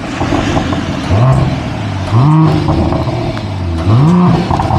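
A Mercedes-AMG GLE 53 Coupe revs while parked, three rising blips swelling loudly from a steady idle and falling back between them, close and clear with no talk.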